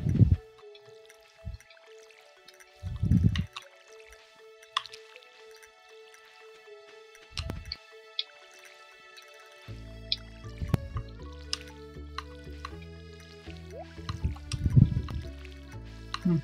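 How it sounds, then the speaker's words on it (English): Watering crops in Stardew Valley: a string of short, bright splashing drips from a watering can, several in a row at an uneven pace, set over soft game music that fills in partway through. "So, we gotta water our plants."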